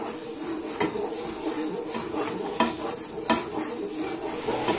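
A spoon scrapes around a pot of boiling milk in repeated strokes, over a soft bubbling and sizzling of the milk cooking on high heat while being made into condensed milk.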